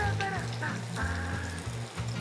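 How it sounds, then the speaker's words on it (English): Coconut prawn fritters dropped into hot oil for deep frying give a steady broadband sizzle, with low-pitched talk running underneath throughout. "Oil is pretty hot now. We need to do the deep fry."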